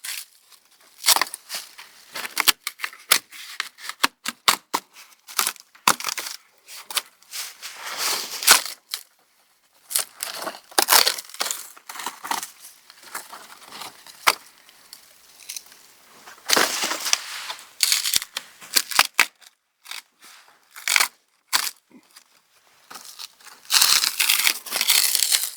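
Bark being peeled and stripped by hand from a dead tree, giving repeated dry crackling, tearing and splintering bursts in irregular bursts, close and fairly loud with short pauses between pulls.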